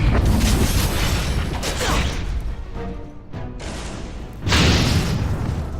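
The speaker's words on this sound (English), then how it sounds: "I forgot abominations explode" An abomination bursts apart in Dragon Age: Origins, a series of heavy booming crashes and crunching impacts that fill the whole clip, with a brief lull before a final loud blast.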